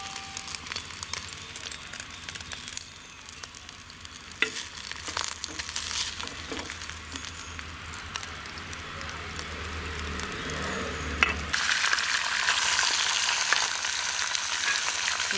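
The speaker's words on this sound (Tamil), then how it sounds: "மிச்சம் இருக்கிற மீனையும் இதே மாதிரி வறுத்து எடுத்துடலாம்" Fish sizzles steadily as it fries in a pan for a Tamil meal. The dense crackling runs throughout and grows noticeably louder and brighter near the end, with no talking.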